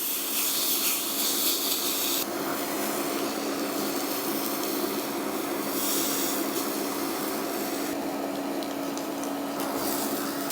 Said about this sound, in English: I'm going to stick it on in my pan, and I'm going to let it cook about 4 minutes per side